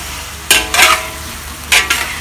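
Beef stir fry with spring onion and ginger is tossed in a hot wok, giving two loud clusters of scraping, sizzling stirs over a steady background hiss.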